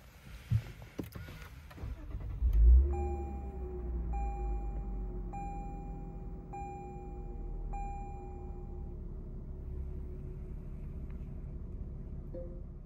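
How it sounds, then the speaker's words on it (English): A 2021 Lexus IS350 F Sport fires up with a sharp, loud crank burst, then settles into a steady low idle that hums on alone, with a few light chimes sounding over it. "Let's go ahead and start the vehicle."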